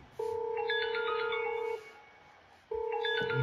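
A smartphone rings with an incoming call from a Dahua video intercom, a loud two-tone electronic ringtone in repeating bursts of about a second and a half with a short pause between them, close and alone without talk.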